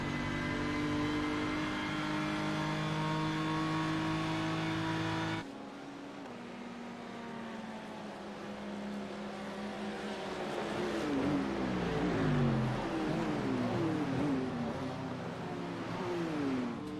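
GT3 race car engine heard onboard at Suzuka in a racing video game; a sustained high engine drone, then a cut to rising and falling revs through gear changes as the car accelerates and brakes, loud and close, no talk.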